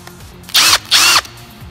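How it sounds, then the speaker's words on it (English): Two quick bursts from a power drill run at slow speed to clean a primer pocket on 6.5 Creedmoor brass during reloading, each whir lasting about a quarter second, close and loud with a short pause between. "All you're gonna do is take your drill,"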